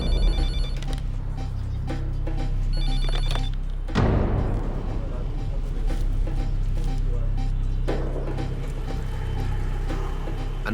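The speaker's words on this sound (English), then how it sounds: "An urgent phone call" A telephone rings urgently indoors near a desk, its repeated electronic bell bursts continuing over a steady low background hum, with faint voices now and then.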